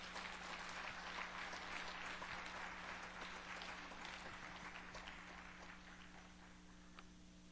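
A church congregation at a Wednesday service applauding together, a faint but steady wash of clapping that tapers slightly near the end.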